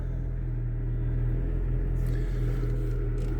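A used car with 54,000 miles runs at idle just after starting. Its engine holds a steady, close, low rumble with an even hum and no revving.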